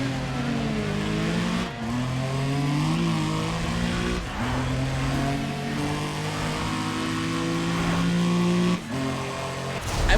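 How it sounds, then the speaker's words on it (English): Car engine revving in the racing game Need for Speed ProStreet, a loud, close engine holding and climbing through gears with brief dips at each shift, steady throughout. "I will say its new engine makes this thing sound really cool."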